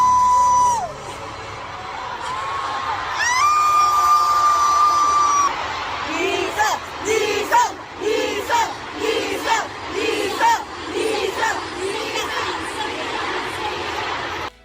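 A large crowd of fans at a concert roars loudly, then breaks into rhythmic chanted bursts of a performer's name at a steady beat after the birthday song, with voices swelling in unison over a constant crowd din.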